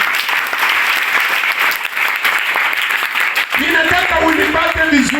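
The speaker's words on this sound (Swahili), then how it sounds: "Pigia Yesu makofi kama unanisikiliza" A church congregation clapping during a Swahili-language service, sustained loud applause that shifts as a voice starts speaking over it near the end.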